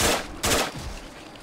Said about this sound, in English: Shoot these gulpers up.